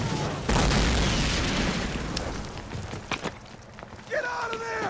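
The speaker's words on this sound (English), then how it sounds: "German mortar crews have opened up on that position." German mortar shells exploding in the World War II strategy game Men of War at Carentan, one heavy booming blast followed by rumbling debris and a few sharper bursts, loud and close, with brief radio-like voice chatter near the end.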